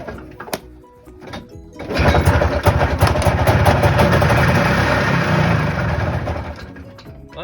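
A 1990 Yamaha Bravo barn-find snowmobile engine catches after a few faint clicks and bursts into a loud, rough, continuous running roar that holds steady for several seconds.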